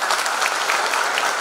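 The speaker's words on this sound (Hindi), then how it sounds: "मंत्री जी का स्वागत तालियों से करें" An audience at an Indian institute's Foundation Day ceremony claps to welcome a minister, a loud, full burst of many hands clapping continuously, then cutting off abruptly at the end.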